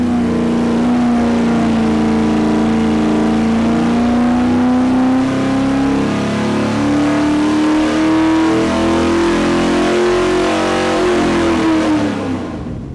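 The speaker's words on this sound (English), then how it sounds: "the RPMs went right to the 55 number, and the dyno shut her down, and Dave brought the RPMs back down" A race engine revs hard on a dynamometer, a loud steady high-rpm roar whose pitch climbs slowly across the pull before the dyno shuts it down and the sound drops off at the end; no talking.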